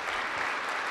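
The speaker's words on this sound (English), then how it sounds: "So, give me a big round of applause." An audience at a startup pitch event applauds a distillery founder, a brief dense burst of many hands clapping, steady and moderately loud.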